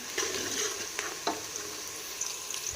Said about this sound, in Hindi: प्याज को हमने अच्छे से ब्राउन कर लेना है, जैसे हम नॉर्मल हांडी के लिए बनाते हैं।